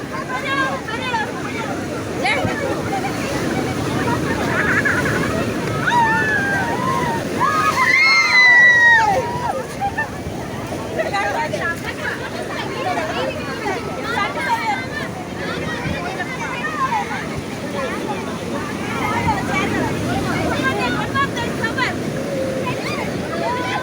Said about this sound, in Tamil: அப்புறமேட்டு ஒரு அலை வந்துச்சு.